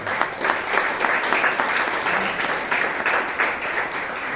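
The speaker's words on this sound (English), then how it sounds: "Please give Mahesh Lokesh a big round of applause." A room of attendees at a Bangalore Toastmasters club meeting claps for a member, a dense, even round of applause lasting several seconds, fairly close and continuous.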